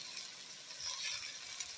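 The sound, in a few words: carrots added to a pan of vegetables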